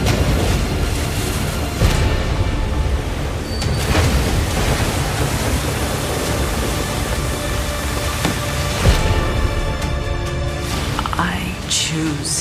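Thunderstorm rumble and booming thunder in a movie trailer, a sustained loud roar with sharp cracks over dense noise, mixed under dramatic music and effects.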